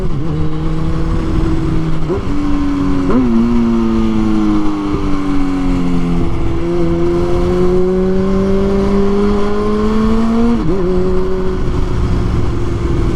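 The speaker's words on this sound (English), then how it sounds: "take a little talking break and listen to the bike" Motorcycle engine under way while riding on new tires through corners, loud and close throughout, with steady droning harmonics that rise and dip as it revs and shifts gears, no talking over it.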